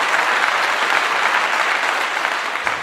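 Steady, dense applause holds at one loud, even level for about three seconds, with no voices above it.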